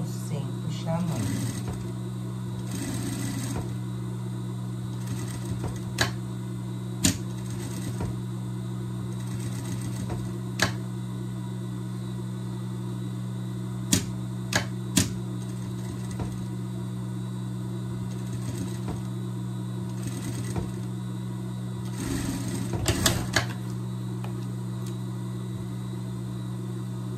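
A sewing machine runs steadily, stitching around the contours of a sleeve on a pet dress, its motor hum continuous with small clicks and short louder bursts; someone speaks intermittently over it.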